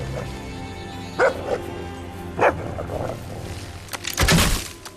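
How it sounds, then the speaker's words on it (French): Dog barks in the video game Fable 2, a few sharp separate woofs spread across the moment, with a louder cluster near the end over a low game background. "Le chien sera également là pour avertir son maître d'une présence hostile."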